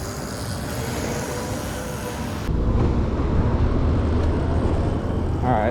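A Sur Ron electric dirt bike fitted with a Kaniwaba pedal kit rolls along outdoors under pedal power, giving a steady whir and road rumble with wind buffeting that grows louder midway.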